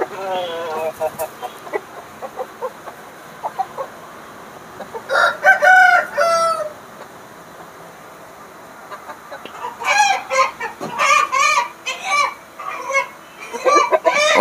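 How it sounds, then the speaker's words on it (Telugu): Rooster crowing and hens clucking at a poultry breeder's farm, with a few short crows in bursts and scattered clucks nearby, with someone talking through much of it. "పుంజు చూసుకోవచ్చు."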